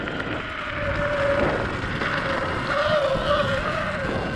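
A Sur Ron X electric dirt bike with high bars, ridden in power mode, gives off a steady, fairly loud motor whine with rising tonal sweeps over tire and wind noise, continuous throughout.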